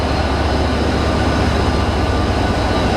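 A passenger train sits idling at Wachusett Station on the Leominster run, a steady low engine rumble and broad hiss filling the air continuously and close by, with no talk over it.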